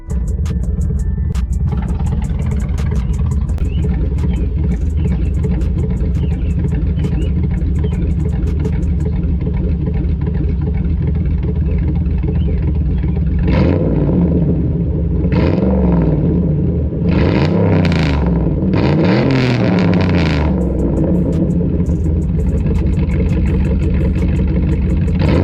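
A Chevrolet Monte Carlo SS with an HP Tuners tune idling with a loud, deep rumble, then several sharp revs rising and falling in quick succession, close by and with no talking.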